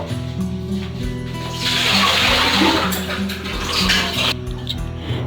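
Fresh strawberries being washed in a bowl of water in a home kitchen, with running water splashing and swishing, swelling to louder rushes twice between quieter stretches, close to the microphone.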